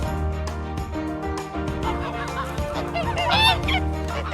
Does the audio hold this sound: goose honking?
yes